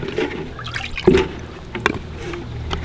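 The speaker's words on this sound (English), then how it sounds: "we'll just scoop some fresh water for them" Fresh water scooped up at a bushcraft camp, giving a brief splashing, pouring trickle with a few soft watery bursts near the middle, close by and moderately loud.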